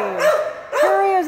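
Mid-sized dog at an animal shelter giving two drawn-out, whiny barks or yelps close by, each held with a rising then falling tone, with a short gap between them.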